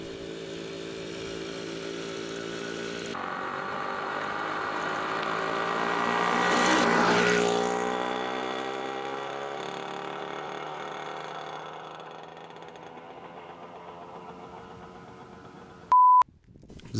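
A Hercules Prima GT moped's small engine buzzes while riding. Its thin, harmonic drone swells to a peak partway through and then eases back down. A short electronic beep sounds near the end.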